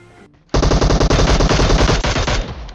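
Loud rapid bursts of automatic gunfire in a video game rattle close by in quick succession after a brief quiet start.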